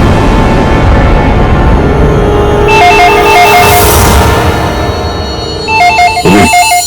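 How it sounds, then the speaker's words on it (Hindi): A telephone bell rings in repeated electronic bursts over a steady background hum, loud and close, with no talking, in a hotel. "फोन उठाओ"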